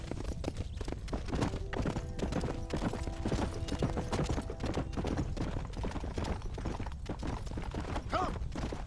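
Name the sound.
horse galloping hooves, video game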